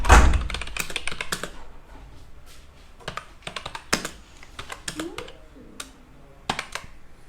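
Typing on a computer keyboard while entering a stock trade order: crisp, close key taps and thunks in short irregular bursts, loudest at the start, with a quiet pause midway.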